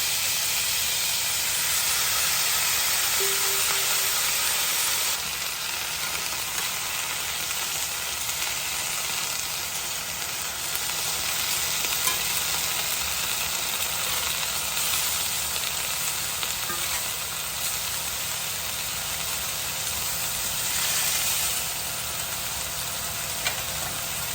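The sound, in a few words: green beans sizzling in a pan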